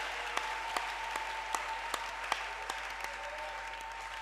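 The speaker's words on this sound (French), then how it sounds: "Nous acclamons pour eux." A church congregation applauds a couple who have just had a child, with scattered claps and light crowd noise in a quiet, roomy space, fairly faint and even throughout.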